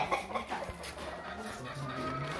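Hens cluck in a crowded farm coop holding around 46 laying hens, a steady overlapping chorus of soft clucks and murmurs close by, with a brief thump partway through.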